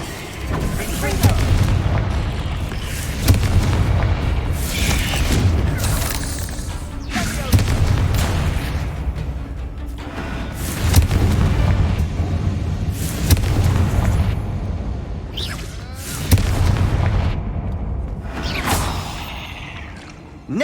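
Repeated Confringo blasting spells explode in Hogwarts Legacy, deep booming blasts arriving every few seconds amid rumbling game action, with voices speaking over the explosions.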